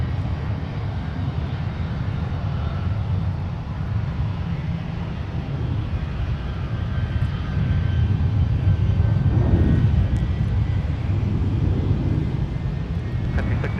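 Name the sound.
Boeing 757-300 jet aircraft at Minneapolis airport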